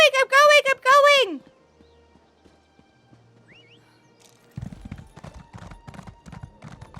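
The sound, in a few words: horse galloping in video game Elder Scrolls Online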